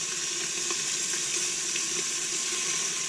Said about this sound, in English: You hear that sizzling, right? Cook all that bacon down.